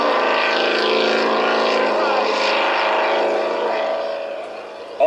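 A powerful racing lobster boat engine roars steadily at high speed on open water, loud and close, then slowly fades slightly as it passes.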